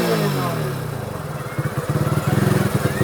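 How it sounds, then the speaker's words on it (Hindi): Hero HF Deluxe motorcycle exhaust revving close by, a low steady idle giving way to loud pulsing throttle blips in the second half. "और ये रहा भाई एग्जॉस्ट साउंड। थोड़ा रैप मारो भाई।"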